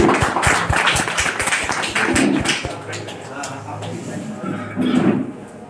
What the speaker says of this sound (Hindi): एक बार तालियां हो जाए सभी लोग।